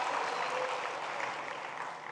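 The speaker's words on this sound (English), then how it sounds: "give yourselves a round of applause" Audience applause, a dense, even wash of clapping at moderate loudness that carries on steadily without breaks.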